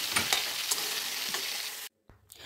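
A spatula stirs dry bottle gourd greens with poppy seed in a hot pan, giving a close sizzle with several scraping strokes, then it cuts to silence before brief faint clatter.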